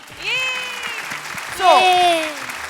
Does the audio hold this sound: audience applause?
yes